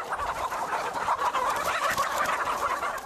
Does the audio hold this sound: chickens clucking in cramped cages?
yes